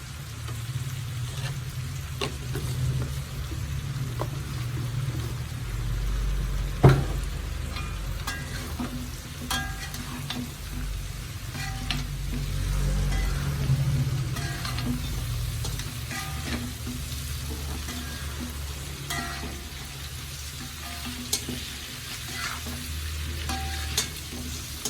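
Amla pickle masala roasting in a pan, with a steady, soft sizzle and frequent scrapes and clicks of stirring running throughout, close by and with no talking.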